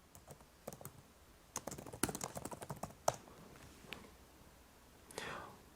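Keyboard typing to enter a search, a sparse run of light clicks and taps with irregular spacing, fairly faint and close, with a soft whoosh near the end.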